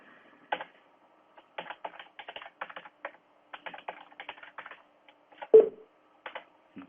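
An administrator password is typed on a computer keyboard in crisp, clear keystrokes, coming in short bursts with brief pauses and a heavier key press near the end, close and alone.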